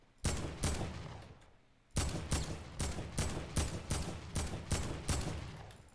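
Gunfire in the Fortnite video game: two loud shots, a brief pause, then a steady rhythmic series of about eight evenly spaced heavy blasts, each with a decaying tail.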